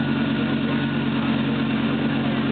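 A 2008 Lamborghini Gallardo idles with a deep, steady burble, continuous, low and throaty, with no change in pitch.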